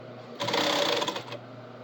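A sewing machine runs a quick burst of topstitching along an apron edge, loud and close for about a second before stopping.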